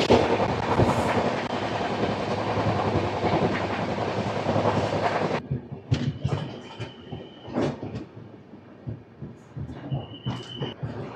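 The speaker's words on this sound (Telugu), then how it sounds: "మన ట్రైన్ అయితే స్టార్ట్ అయిపోయింది" The Korba Express (18518) rolls on rails after leaving Bobbili junction. A loud, dense rumble fills the first half, then gives way to a quieter clatter of rhythmic wheel clicks and knocks, with a faint thin tone.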